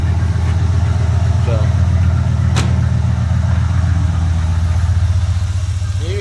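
A 1985 Chevy Camaro IROC engine runs steadily at idle close by, a low constant rumble throughout, with a brief word spoken over it.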